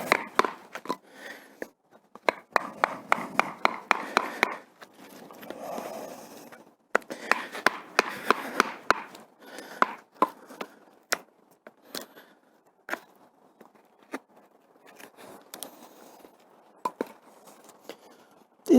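A bush knife carves a notch in wood, making a series of sharp, close cutting and scraping strokes in irregular bursts. Quiet pauses separate the strokes.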